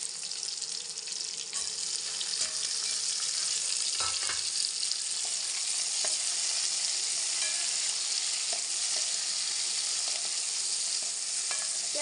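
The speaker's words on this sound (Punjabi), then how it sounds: "ਪਿਆਜ਼ ਵੀ ਆਪਣੇ ਬਰਾਊਨ ਹੋ ਗਏ ਹੁਣ ਆਪਾਂ ਇਹਦੇ ਵਿੱਚ ਟਮਾਟਰ ਐਡ ਕਰ ਦਿੰਨੇ ਆ" Tomatoes tossed into browned onions frying in a pan for a matar aloo curry, a loud, dense, continuous sizzle heard up close, with a few spoon scrapes and knocks against the pan.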